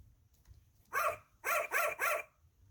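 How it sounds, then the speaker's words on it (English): A small dog's barking from a Miss Piggy sound button book: a single yap, then a quick run of three close, bright barks, fairly loud and alone over a faint background. "She could hear Foo Foo barking"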